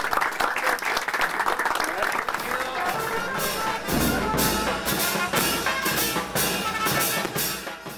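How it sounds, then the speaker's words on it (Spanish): Townspeople in San Carlos on the Río San Juan applaud arriving expedition members, a lively round of outdoor clapping mixed with crowd voices and talk, growing denser toward the end. "Vamos a darle un aplauso a los expedicionarios en nombre del pueblo de San Carlos."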